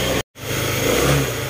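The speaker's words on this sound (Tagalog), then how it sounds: "Yung lagitik na naririnig nyo mga sir, yan po yung nanggagaling dito sa may valve clearance natin." A Honda ADV150 scooter engine runs steadily up close, a loud continuous mechanical drone with a fast valve-clearance tick, briefly cut out by a short gap near the start.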